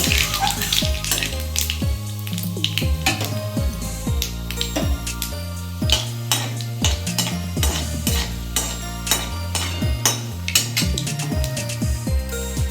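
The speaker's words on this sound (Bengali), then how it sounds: "আর একটা শুকনো লঙ্কা ফোড়ন দিলাম একটু কালো জিরে দিয়ে দিলাম এই ফোড়নটা একটু ভালো করে ভেজে নেব" Dried red chilli and nigella seeds frying in mustard oil in a pan, with a steady sizzle and repeated scraping and stirring clinks of a spatula, close and continuous.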